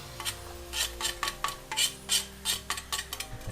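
Onions tipped into a pan of garlic frying in oil, hissing into a series of rhythmic scraping and stirring strokes, with a utensil clinking against the pan and a sizzle running steadily underneath.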